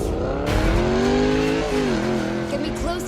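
Racing cars in Need for Speed No Limits, with a sustained engine note rising and dipping, harmonics sliding as gears shift, and loud tire noise underneath throughout.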